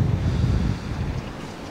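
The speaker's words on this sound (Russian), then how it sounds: "ничего, кроме шума моря, не слышно" Sea waves washing onto the shore at the Anapa resort, a steady low roar of surf with some wind rumble, fairly loud and continuous, with no voices.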